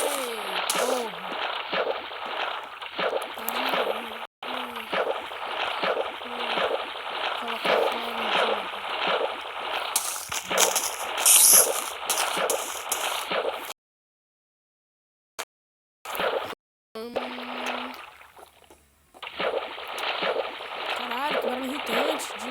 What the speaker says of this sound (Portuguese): que barulho irritante de água